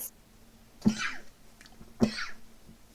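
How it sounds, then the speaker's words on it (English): Two short, sharp human sneezes about a second apart, close and moderately loud over a quiet background, with no talking. "And I sneezed again."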